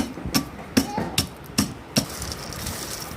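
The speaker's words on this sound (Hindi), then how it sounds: "इसके बाद आप इन सभी को मिलाकर खूब बारीक कूट लें।" Rock sugar and bamboo manna pounded into fine powder: five evenly spaced hard thuds, one roughly every 0.4 seconds, ring out close by before a quieter stretch of faint rustling.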